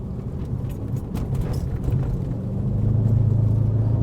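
An Audi RS6 C5 Quattro powers along a slippery muddy road, its engine a steady low rumble that swells as it accelerates, with a droning tone rising toward the end.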